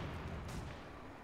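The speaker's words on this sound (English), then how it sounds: "That was a lot of mortar shells that landed there in close succession." Rapid mortar shells landing close together in the Company of Heroes 2 video game, a dense rumbling barrage of low booms with a sharper burst midway, steady and loud throughout.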